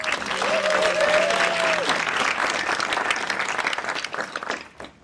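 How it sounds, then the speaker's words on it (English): A conference audience at a justice and violence-response event gives a round of applause for a collaborative: loud, dense clapping from a crowd, with a brief tonal murmur early, fading out toward the end. "Can we just get a round of applause for that collaborative?"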